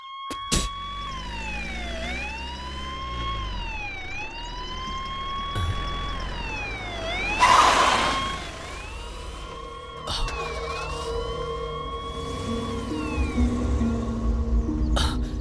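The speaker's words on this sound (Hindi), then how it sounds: "वो देखो पुलिस की गाड़ी आकर रुकी है।" A police car siren wails loud and near in repeated rising and falling sweeps as the car arrives, with a brief burst of noise midway and traffic rumble underneath.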